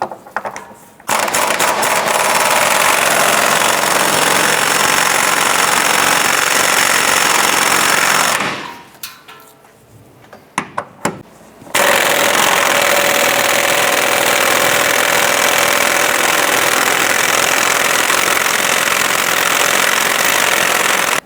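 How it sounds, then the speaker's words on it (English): Air impact wrench with a 21mm socket loosening rear subframe bolts on a 2006-2013 Chevrolet Impala, a loud sustained hammering rattle in two long bursts separated by a short pause with a few brief taps, close up. "Using a 21mm socket and impact, we're going to go ahead and loosen our rear subframe bolts here"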